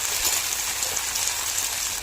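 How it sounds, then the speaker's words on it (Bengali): Broad beans sizzle in hot mustard oil in a kadai, a dense, even hiss that stays close and steady throughout without any voices. "প্রথম কড়াইটা গরম হওয়ার পরে সরষে তেল দিয়ে দিলাম। তারপরে সিমগুলোকে এখন হালকা করে ভেজে নেবো।"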